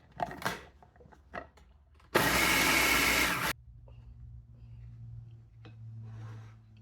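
A kitchen appliance grinding 22 Oreo cookies into fine crumbs, with one loud, harsh burst of about a second and a half that then drops to a low steady hum.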